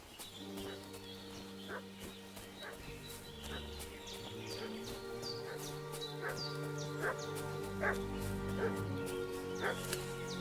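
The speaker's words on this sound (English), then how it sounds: "What's that dog making such a fuss about?" A dog barks repeatedly in a medieval village scene of Kingdom Come: Deliverance II, sharp barks spaced irregularly over a low ambient game soundscape with birds and faint background murmur, no clear speech.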